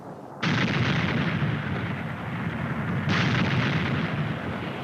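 A historic recording of a 1927 volcanic eruption blast: two deep, rumbling booms with a sustained roaring, noisy body, the second starting about three seconds after the first, no voices.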